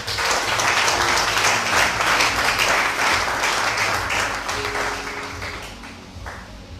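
Applause from a church congregation after a call to acclaim the Lord, a dense sustained burst of many hands clapping that fills the room and slowly tapers off toward the end.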